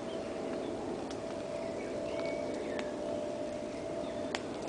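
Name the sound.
evening chorus of birds at a wild camp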